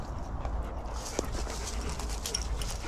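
A pack of dogs is out on a walk in Newport, with faint paw patter and a brief whimper against a steady outdoor hiss.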